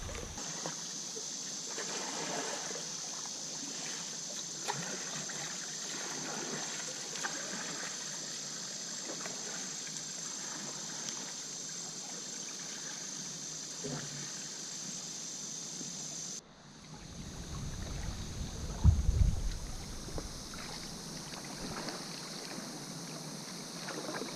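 Solo kayak gliding on a quiet shaded summer river, faint steady water and paddle wash with a hiss of background, then a brief closer splash and bump near the end.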